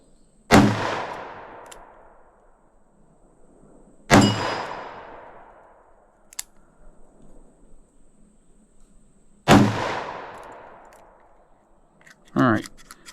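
Three loud, sharp .357 Magnum revolver shots using Freedom Munitions X Defense ammunition, each with a long decaying echo and spaced a few seconds apart, followed by a fainter metallic clatter near the end.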